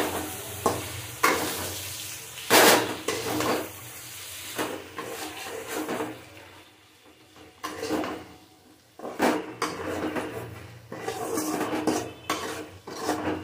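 Bean and tomato curry stirred in a pan, a spoon scraping and clattering against the metal in repeated bursts over a soft, steady sizzle.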